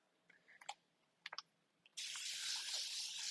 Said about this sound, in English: So just a really light mist,